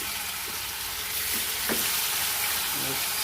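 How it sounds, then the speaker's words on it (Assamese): Fish pieces frying in hot oil for an elephant apple fish curry, a loud, steady sizzle up close with a few soft clinks and light movement. "মাছবোৰ এতিয়া ফ্ৰাই কৰি ল'ম"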